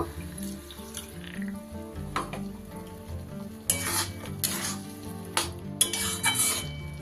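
Fish curry of small fish with turnip or kohlrabi, poppy seed paste and green chili being stirred in a pan: a soft sizzle under repeated metal clanks and scrapes of the utensil, close up, with no voices.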